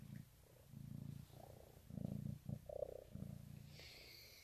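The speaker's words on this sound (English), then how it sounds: "she's just purring away" A cat purring softly and close, low rumbling in slow pulses with each breath, fairly quiet.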